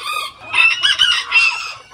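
Hen in a farmyard clucking loudly and close by, a quick run of shrill, rapid clucks with no talk.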